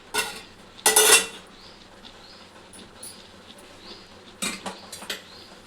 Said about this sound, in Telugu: మూత పెట్టాలి దీని మీద మూత ఇట్లా మూత పెట్టుకోవాలి